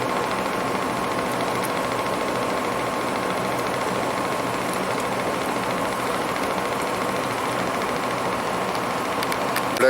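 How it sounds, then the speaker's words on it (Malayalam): Ice factory machinery runs near a fishing harbour by the beach, a loud continuous mechanical drone and hum with a steady tone, constant throughout with no pauses. "ഇവിടെ ഫിഷിൻ്റെ ഏരിയ ഉണ്ട്, ഐസ് ഫാക്ടറി. അതാണ് ഈ ഒച്ച, നല്ല ഒച്ചയുണ്ട്"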